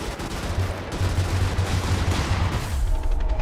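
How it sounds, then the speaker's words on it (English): Artillery rounds strike near the player in the mech game Brigador, producing a dense rumbling barrage of explosions and gunfire for a few seconds with no talk. "And I just ate an artillery round."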